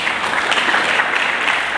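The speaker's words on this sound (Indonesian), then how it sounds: "Mari kita berikan tepuk tangan bagi Yesus." Church congregation applauding during a sermon, a steady dense wash of hand claps at close range filling the whole short stretch without any talk.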